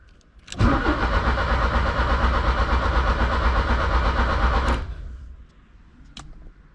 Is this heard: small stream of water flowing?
no